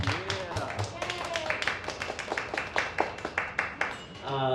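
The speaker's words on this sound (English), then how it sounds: "Let's get a round of applause to kick this off so that it looks good for the" An audience at a panel discussion on creativity breaks into applause, a brisk round of clapping with sharp individual claps close to the microphone, rising briefly and then thinning out.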